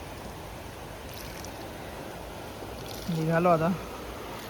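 Stream water flows past at a village spot during rain, where clothes were just washed. A steady, even rushing fills the whole stretch, and someone speaks briefly near the end.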